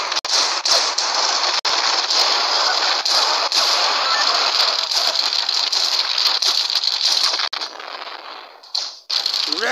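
Rapid rattling gunfire in the mobile action game Payback 2, sharp bursts of shots crackling over a steady noisy din, loud and close for most of the stretch before thinning out near the end.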